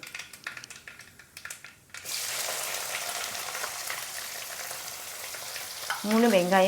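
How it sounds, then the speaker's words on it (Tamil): Sliced onions sizzle loudly as they drop into hot oil in a pan, after a few clinks, frying steadily with a brief high whining tone near the end. "நல்லா வதங்கிட்டுருக்கு."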